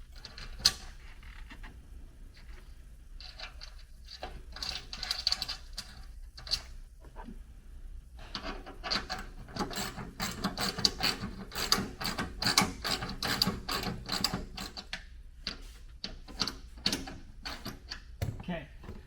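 Ratcheting wrench clicks and metallic creaks from bolts being snugged up during a Ford Bronco ridgeback install, in uneven bursts of rapid clicking, fairly close, with a quieter start and busier stretch of ratcheting later.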